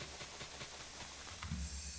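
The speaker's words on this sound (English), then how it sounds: "Listen to the sizzle." Sponges drying out in Minecraft give a hissing, steam-like sizzle, with a steady faint wash that swells into a louder burst near the end.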